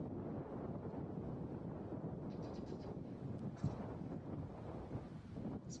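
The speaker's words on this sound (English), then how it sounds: "there's a constant wind, and you can also hear it over the camera." Constant wind buffets a camera microphone outdoors at a cricket ground in Lasky, a steady low rumble throughout with a few faint, brief chirps and knocks in the background.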